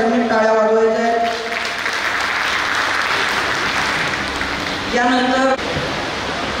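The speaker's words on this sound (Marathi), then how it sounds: "त्याच्याबद्दल सगळ्यांनी टाळ्या वाजवायच्या आहेत" Applause from the crowd at a school batch reunion get-together, a steady broadband clapping wash lasting several seconds, with a person talking over it at the start and again near the end.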